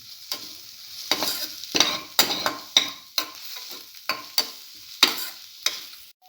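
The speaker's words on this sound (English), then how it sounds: "Saute mix for another 4 to 5 minutes. Low flame." A scrambled egg stir fry mix with cinnamon is sautéed in a pan on a low flame, with light sizzling under a series of crisp, regular spatula scrapes and stirs, close by and alone.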